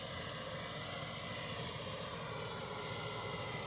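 An MTZ 192 tractor pulling an SZ 3.6 seeder while sowing wheat in a field gives off a steady, loud, unbroken engine drone with no talking.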